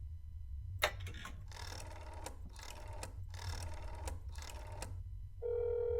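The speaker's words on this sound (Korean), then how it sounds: "집에다 전화해 볼까?" Telephone ringing when calling home in the video game That's Not My Neighbor: four or five evenly spaced electronic rings with short gaps, then a steady tone as the line picks up.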